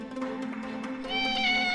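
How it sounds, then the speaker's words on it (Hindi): A trapped cat, its neck caught in a house gate, lets out a strained, continuous meow that rises and grows louder toward the end, close and alone. "यहाँ एक बिल्ली की गर्दन इस घर के गेट में ऐसे फंस गई कि ठीक से सांस भी नहीं ले पा रही थी।"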